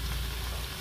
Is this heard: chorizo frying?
yes